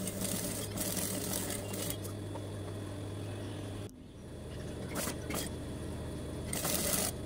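A sewing machine works on a children's summer dress, a steady, fairly quiet mechanical whir with a low hum that stops partway through, followed by light clicking and handling sounds.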